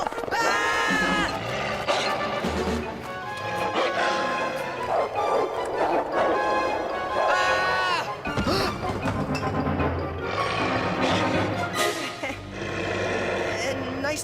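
Cartoon werewolf barking and snarling over a busy orchestral score with crashes, loud and continuous throughout, with a frightened voice exclaiming.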